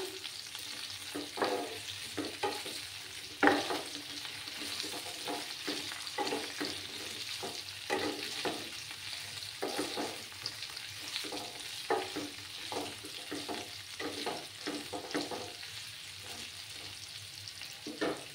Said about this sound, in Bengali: এবার আমি একটা টমেটো কেটে রেখেছিলাম, সেই টমেটোগুলো দিয়ে দিচ্ছি।